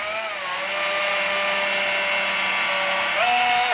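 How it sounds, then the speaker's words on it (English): A small power drill whines steadily at high speed, close and continuous, drilling a 2mm hole through a guitar fret slot, its pitch dipping briefly as it bites in and then rising near the end. "I'm going to drill 2mm hole"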